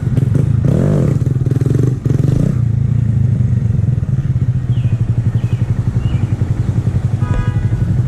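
A motorcycle engine runs loud and close throughout, with a throttle surge early on, then settles into a steady pulsing rumble with light clattering as the rider wheelies.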